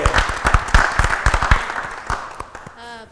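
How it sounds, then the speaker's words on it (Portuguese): An audience at an afternoon round-table show breaks into steady applause for Elisete, dense rhythmic clapping from many hands that fades near the end. "Vamos aplaudir a Elisete!"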